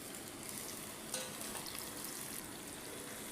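Onions fried until reddish brown sizzle in a pan for a Bengali chicken curry as chopped tomatoes go in, a steady close crackling hiss with a faint brief clink partway through and no talking.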